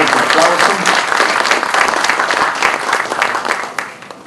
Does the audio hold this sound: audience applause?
yes